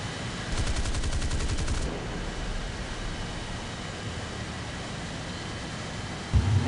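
An F3D Skyknight's four 20 mm cannons fire in a flight simulator game: one short, rapid, evenly pulsed burst lasting about a second, over the steady roar of engine and airflow that continues alone afterward.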